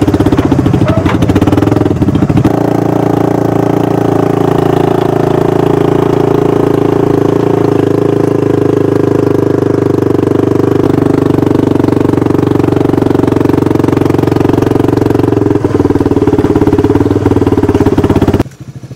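A four-wheeler ATV engine runs at a steady idle for a long stretch, loud and close, with an even low rumble and no talking over it.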